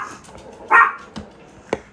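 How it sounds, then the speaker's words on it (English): A dog barks once, sharp and fairly close, followed by a couple of fainter yips, heard alone with no talking over it. "there goes my dog again"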